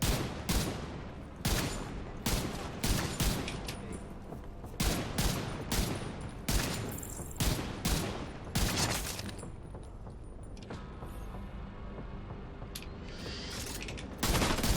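Video game gunfire rattles in dense, rapid bursts for about nine seconds, then gives way to quieter mechanical sounds with a few isolated shots near the end.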